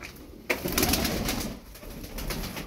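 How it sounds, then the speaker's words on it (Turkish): Çorum tumbler pigeons, about eleven birds kept together, coo in soft overlapping rolls right near the listener, a louder burst early on and then steady murmuring throughout. "On bir tane kuş var burada."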